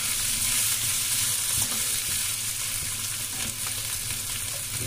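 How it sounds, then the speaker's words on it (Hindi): Potato curry sizzles steadily in a pan with turmeric just added, a continuous close frying hiss broken by the soft scrape and clatter of a spoon stirring the vegetables, with no voices. "हल्दी डाल के इसको चलाना है।"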